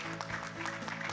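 Applause at an AI forum panel welcomes a speaker to the stage, a short burst of steady clapping mixed with a sustained tonal hum.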